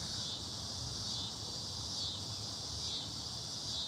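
Steady, dense buzzing of periodical cicadas drones without a break, a high shimmering chorus with faint pulsing swells, like many cicadas calling at once.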